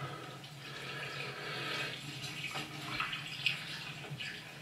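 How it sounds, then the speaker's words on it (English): Hot water is poured onto a t-shirt outdoors in freezing cold weather, giving a continuous soft splashing and hissing wash that swells and fades slightly over several seconds. "Okay, so he's pouring some hot water on a t-shirt."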